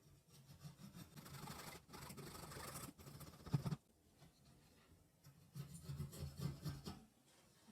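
Hand-held coping saw rasps back and forth across a small turned wooden Christmas tree, with quiet rhythmic scraping strokes in two stretches separated by a pause.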